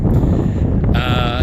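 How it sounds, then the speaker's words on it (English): Wind buffets a microphone outdoors in a low, rumbling rush, with a brief higher tonal sound near the end. "Sorry about the wind if it's a little windy sounding out here."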